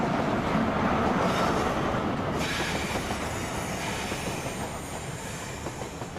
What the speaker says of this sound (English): And that is a train dispatched safely.